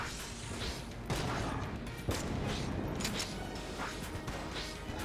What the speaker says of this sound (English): Good old explosions and nuclear ordnance.